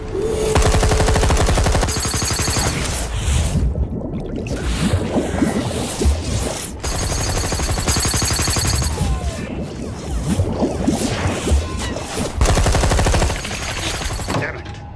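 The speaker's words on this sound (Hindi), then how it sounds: "फायर करो उधर पानी में।" Gunfire from a boat sprayed into the water during a nighttime action scene in a Bollywood film. Dense rapid bursts of shots, loud and close, come in repeated volleys over engine and water noise, with brief gaps between bursts.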